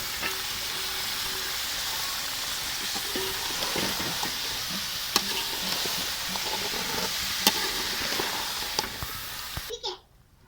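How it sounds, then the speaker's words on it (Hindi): Vegetables added to chicken sizzle loudly in a hot pan, a steady close crackling fry with occasional clinks of a stirring spoon, fading abruptly at the end. "चिकन को भुनी लग चुकी है और अब मैं डालने लगी हूँ सब्जियाँ"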